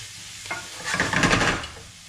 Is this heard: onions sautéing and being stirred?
yes